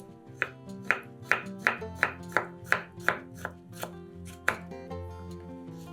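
Knife chopping pickled cucumbers into cubes on a board: a steady series of about a dozen crisp, evenly spaced close knocks.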